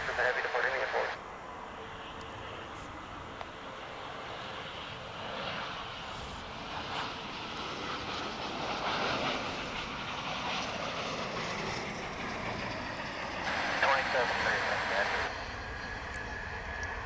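Frontier Airbus A320 jet airliner bound for San Francisco, its engines whining steadily at a distance for a long stretch, with people talking over parts of it.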